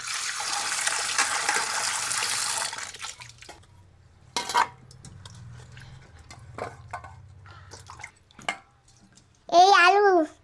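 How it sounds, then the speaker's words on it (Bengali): Cut potatoes are washed in water in a bowl, with a few seconds of close splashing and sloshing, then scattered knocks and clinks of handling, and a voice briefly at the end. "এই যে আলু এখন ভালো করে ধুয়ে নেব দু তিন ধোয়া দিলে আলু ধোয়া হয়ে যাবে"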